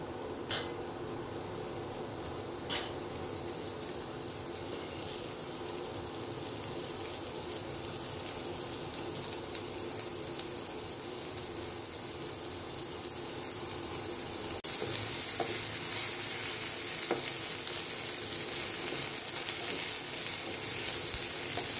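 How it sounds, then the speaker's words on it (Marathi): Onions frying in a hot pan for Goan masoor bhaji, a steady close sizzle that grows louder and brighter partway through, with no speech. "आतां हे कांदो घालता भाजपाक."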